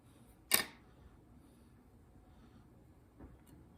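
Scissors snip off a thread end at a fly-tying jig, one crisp close click followed by a fainter second snip a few seconds later in a quiet room.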